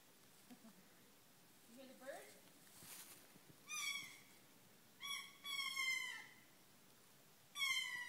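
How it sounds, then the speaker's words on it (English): A bird calls from a tree outdoors, several bright chirping and whistling bursts repeating at intervals, moderately distant, with faint voices and background sounds in between. "Is that a bird? Crazy bird!"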